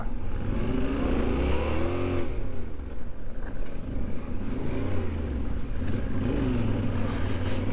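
Several loaded off-road motorbikes rev and accelerate on a rocky trail in the Spanish Pyrenees, engines rising and falling in pitch close by and continuous throughout.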